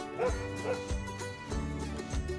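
A dog gives repeated close barks and yips, some with a whimpering edge, in a steady run of loud calls with no talking over them.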